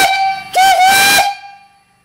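A loud, steady whistle from an 1876 live steam stationary engine with boiler, at about 60 pounds pressure, sounds close by with a hissing rush of steam, then cuts off and fades into quiet.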